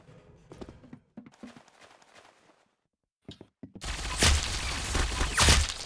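Gunfire in the Roblox shooter Arsenal, a loud burst of rapid shots near the end after quieter scattered sounds and brief gaps.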